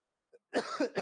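A single short cough, fairly close and clear, preceded by a faint breath and followed by a brief rougher throat sound.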